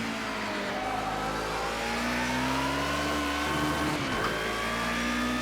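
A DTM race car at Silverstone International in Project Cars 2 screams steadily as its engine accelerates out of a corner, pitch rising, then dipping briefly on a shift before climbing again, loud and close throughout.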